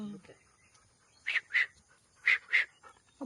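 A dog gives two pairs of short, sharp barks at close range, with a quiet pause between the pairs and faint background noise.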